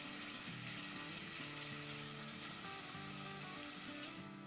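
Garlic paste sautéing in hot oil for chicken enchiladas, a steady, close sizzle and crackle of frying that runs unbroken for several seconds with no talk over it.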